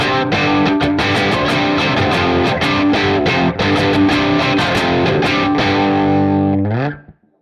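Electric guitar on the bridge pickup through a Neural Amp Modeler Friedman Plexi amp model, crunchy overdriven chords strummed in a driving rhythm, loud and up close, ending with a ringing chord that fades out.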